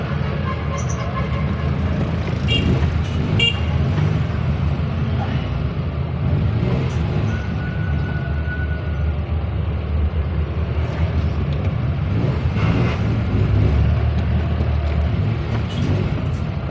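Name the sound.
heavy road traffic with car horns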